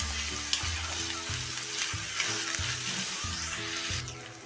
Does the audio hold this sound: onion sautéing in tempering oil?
yes